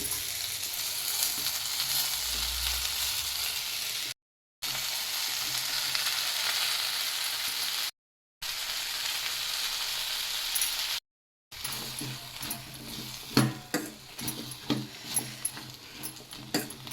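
Pirandai fries in oil with onion, tomato and dried red chillies, a dense steady sizzle broken by short gaps, then spatters and stirring clatter toward the end.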